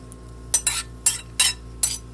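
Crushed pineapple, grated carrot, chopped grapes and finely cut celery are stirred in a bowl, giving about six sharp spoon-against-bowl clinks and scrapes in an uneven rhythm, close and clear.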